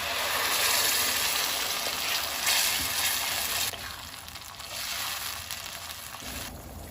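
Blended tomato puree, made from three tomatoes, sizzles in hot oil in a pan while cooking for chicken 65 biryani. A close, steady frying hiss fills the clip and eases off partway through.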